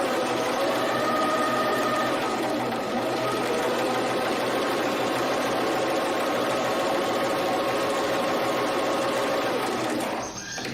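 A sewing machine stitches a straight seam in one continuous steady whirring run, loud and close, ending abruptly near the end.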